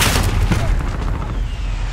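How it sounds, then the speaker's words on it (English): Precision airstrike explosions in a Call of Duty Search and Destroy match: dense, loud booming blasts rolling continuously through the short moment, with faint voices mixed in. "Friendly precision airstrike on the way."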